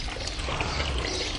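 Water streams and trickles steadily from a sponge squeezed out while cleaning a horse's face, a close, continuous wet pour with no voices.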